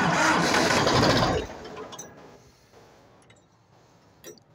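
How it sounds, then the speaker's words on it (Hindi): An Ursus 2812 tractor engine catches with a loud burst of mechanical noise, then drops to a quieter, steady idle with faint clicks and rattles. "तो अब हम इस ट्रैक्टर का साउंड वगैरह आपको चेक करवा देते हैं"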